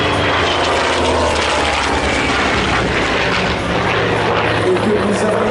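A propeller airplane roars overhead at an air show at Gap Tallard aerodrome in the Alps, a loud, steady engine drone filling the whole stretch while someone talks over it.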